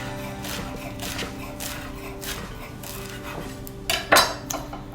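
A sharp knife slices fresh basil thin on a board, giving a run of light, rapid cutting taps and scrapes close by, ending in a couple of louder knocks near the end.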